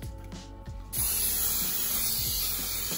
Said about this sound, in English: I'm gonna start by spraying with some pan baking spray.